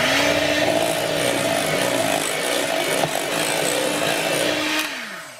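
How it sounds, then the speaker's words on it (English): An electric mixer whisks cream cheese smooth for a low-carb, no-bake dessert, its motor whining at a steady pitch close by before slowing and cutting out near the end. "we'll just whisk that in until it's nice and smooth"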